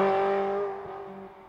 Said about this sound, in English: There is no mistaking what you're listening to when you hear a 360 Challenge Stradale on full chat on flyby